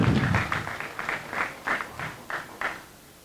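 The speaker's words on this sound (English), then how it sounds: "Please, can we give him a round of applause?" Applause for a pastor at a wake-keeping: loud clapping at first, then a scatter of separate, spaced claps trailing off to near silence.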